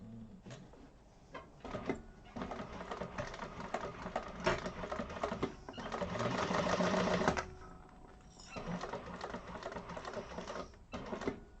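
A sewing machine stitches a wallet seam in rapid, rattling bursts, with a longer continuous run in the middle and short stops and starts between, close and clear.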